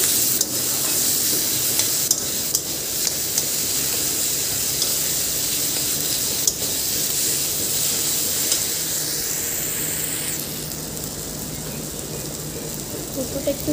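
A taro mixture sizzles steadily as it fries in a pan, with a continuous crackle and occasional scraping stirs throughout, close and moderately loud, with no one talking.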